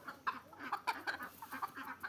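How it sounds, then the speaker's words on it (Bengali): Chickens squabbling and clucking in a rural village yard, a quick run of short agitated clucks and squawks, fairly close but quiet, with no talk. "ওই যে মুরগি ঝগড়া লেগে এখানে চলে আসছে"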